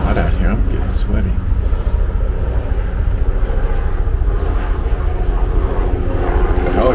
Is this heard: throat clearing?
no